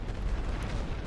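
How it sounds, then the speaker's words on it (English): Dense, continuous rumbling barrage from World War I artillery in The Great War: Western Front, with heavy low booms merging into a steady roar and no distinct gaps, loud and close. "They're walking artillery toward me."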